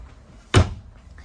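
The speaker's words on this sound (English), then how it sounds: "Now this comes with a sliding door." A sliding interior door in a 2022 Grand Design Transcend Xplor 265bh travel trailer closes with a single short, solid thud, fairly close and loud against a quiet room.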